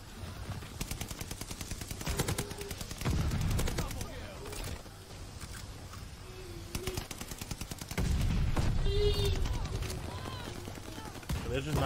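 Bursts of continuous automatic gunfire in Call of Duty on console, rapid repeated shots rattling on and off through the whole stretch while a voice talks over the shooting.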